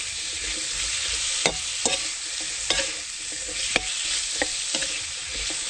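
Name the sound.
sautéing winter melon (ginisang kundol)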